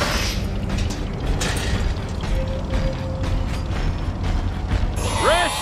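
Mechanical construction of a machine gun emplacement in the Trenched video game: ratcheting, creaking gear-like clatter over a steady mechanical bed, with rising whistling tones near the end.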